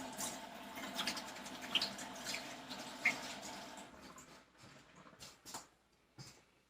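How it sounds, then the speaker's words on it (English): Running water from a kitchen sink tap as hands are washed while cooking, a soft steady splash with a few brief drips and clatters, fading out toward the end. "Wash my hands."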